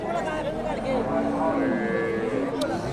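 A young bull calf moos with a drawn-out low call amid a noisy cattle market crowd chattering around it, at Dakumara cattle market, Bogura.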